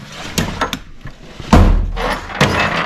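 Drawer of a 1980s Snap-on metal toolbox pulled open, a few short sliding clunks and rattles of tools followed by a louder metallic slide and thump, close and alone.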